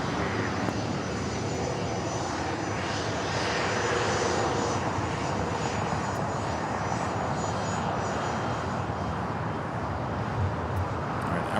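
An airliner takes off from LAX runway 25 right with a steady, broad jet roar that holds for the whole stretch, heard from a distance and without talk.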